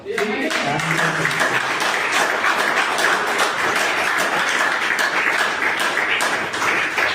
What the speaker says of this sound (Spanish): ¿Podemos dar un aplauso al Señor?